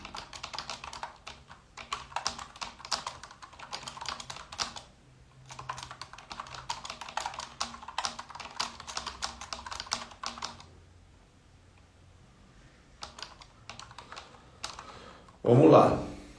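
Typing on a computer keyboard, fast clattering keystrokes in bursts with a short pause near the end, close and fairly loud, with a brief louder knock at the very end.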